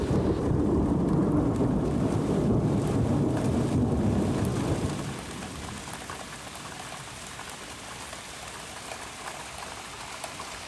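A thunderstorm pours heavy rain as a dense, loud, steady hiss for about five seconds, then eases to a softer, even patter, with no voices.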